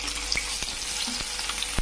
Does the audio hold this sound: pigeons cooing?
no